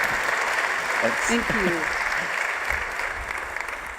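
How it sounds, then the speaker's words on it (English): Applause from a summit audience rolls on steadily as a dense, even wash of clapping, with a speaker briefly giving thanks over it. "please let's give him a huge round of applause"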